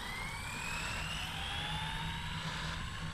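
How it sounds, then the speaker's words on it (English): An Arrma Mojave Grom big-block RC car with a brushless motor makes a speed pass, its high motor whine climbing steadily in pitch over a continuous rushing roar, heard from a moderate distance. "This is the first speed pass we're going to do on camera for the big block Mojave Grom."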